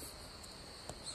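Autumn crickets and other insects chirp in a steady, high, continuous trill, faint and distant, with no talking.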